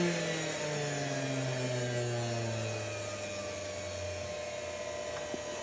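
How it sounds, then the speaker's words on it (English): A blacksmith's forge blower roars loudly and steadily throughout, its motor tone sliding slowly downward as it is turned down a bit, with a brief tap near the end. "Apologize, the blower's a little loud."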